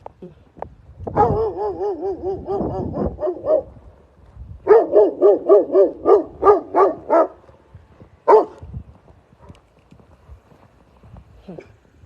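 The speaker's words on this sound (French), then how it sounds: "Les gros chiens d'ici, c'est un jeu." Big dogs barking in two long runs of loud, rapid, closely spaced barks, followed by a lone bark near the end, with no one talking over them.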